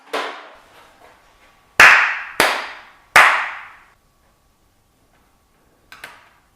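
Three sharp hand claps close by, the first two quick and the third after a short pause, each ringing briefly in a quiet room, followed by a fainter clap-like knock a few seconds later.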